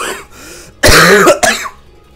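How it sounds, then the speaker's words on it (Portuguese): Throat clearing and a couple of harsh coughs from someone with a sore throat, close and loud, a short rough burst followed by a second cough and quiet. "desculpa a tosse, galera, que eu tô muito mal de garganta"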